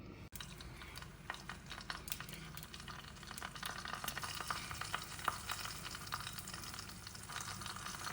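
Egg frying in a sticky, unwashed pan, a low steady sizzle with scattered scraping and stirring clicks, close and quiet, no talking.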